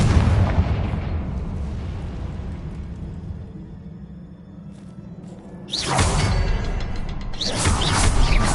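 A Confringo spell explodes in a Harry Potter video game, a booming fiery blast with a whooshing burst that rolls in loud over a steady rumbling game background, followed by a second surge of crackling roar.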